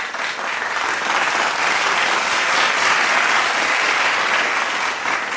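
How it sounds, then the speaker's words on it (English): A Monday Club gathering of CheonBo families gives another round of applause, sustained, full-room clapping throughout at an even, fairly loud level. "let us give them again another round of applause"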